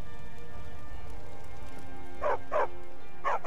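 A dog barks in the fantasy role-playing game Skyrim, three short yips clustered near the end over quiet ambient game background and a faint low hum, fairly close and alone without talk.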